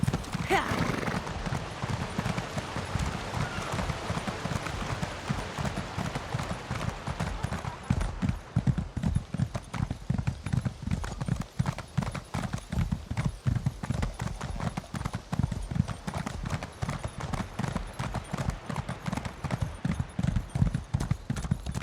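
Horse hooves clip-clop in a quick, steady rhythm during a ride in the video game Elder Scrolls Online, loud and continuous, with a whinny near the start and voices talking faintly under the hoofbeats.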